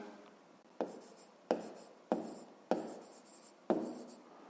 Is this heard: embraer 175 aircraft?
no